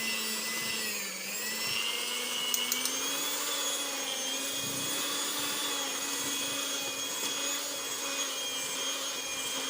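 A steady, whining electric mixer churning thick Easter bread dough, its motor droning continuously at a close, even pitch with a slight speed shift early on.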